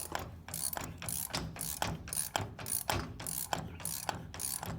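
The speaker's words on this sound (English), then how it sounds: "I gotta run a tap through everything" A thread tap being run through bolt holes on a 1966 Chevy Nova race car with powder-coated parts, giving a steady rapid ratcheting click in short back-and-forth bursts, close and moderately quiet, with no talking.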